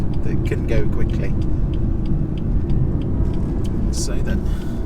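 A 2017 BMW 440i Gran Coupe's engine drones as a low steady rumble from inside the cabin while driving, with road noise underneath and a voice talking over it.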